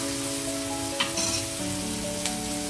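Boiled kabuli chickpeas frying in a pan, giving a steady soft sizzle with a couple of brief clinks or scrapes, close and unaccompanied by talk.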